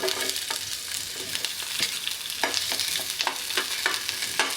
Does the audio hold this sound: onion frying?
yes